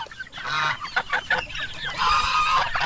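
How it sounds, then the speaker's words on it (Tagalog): A goose wanders around a farmyard, honking in a few ragged, nasal calls over a steady background of other poultry noise. "Ito naman yung gansa na paikot-ikot lamang."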